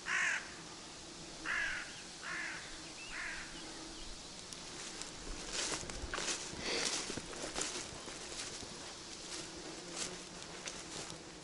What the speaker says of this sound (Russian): Ой, сорока, говорю, ворона.